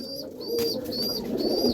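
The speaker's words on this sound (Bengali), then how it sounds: "এটা আমার ঘরের খুবই পছন্দের একটা পায়রা" A Madrasi pigeon coos close by, soft repeated throaty calls, with faint higher chirps from other birds in the background.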